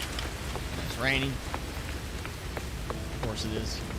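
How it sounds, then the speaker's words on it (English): Steady rain falling in the video game No Man's Sky, a continuous hiss of drops with brief faint rumbles, while a voice talks softly over it. "It's raining."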